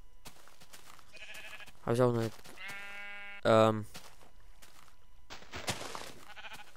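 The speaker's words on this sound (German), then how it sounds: "Und ein Schaf, das auf dem Baum ist." Sheep in the video game Minecraft bleat twice in short, nasal calls about a second and a half apart, loud over quiet game ambience, with someone talking briefly before and after.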